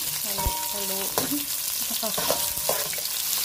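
Chopped garlic and onion sizzling in hot oil in a pan while a spatula stirs them, with scraping strokes and clinks over a steady frying hiss, close up.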